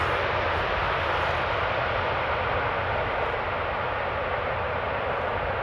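A steady, loud roar of an airplane engine at Schiphol Airport, a continuous broadband rumble holding evenly with no talk over it.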